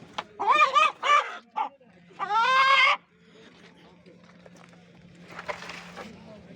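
Roosters crowing and chickens calling at the Sungurlu poultry market, two loud crowing bursts close by, then fainter clucking and market murmur with people talking.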